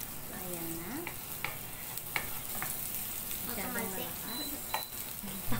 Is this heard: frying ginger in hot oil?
yes